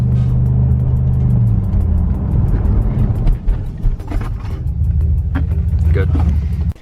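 A car with freshly done brakes rolls along with a low engine rumble, then brakes hard. Voices talk over it toward the end, and there are some clicks and knocks.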